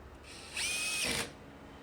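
Power drill briefly tightening a screw on a stove faceplate, a single short high whir of under a second, close and fairly quiet against a low background hiss.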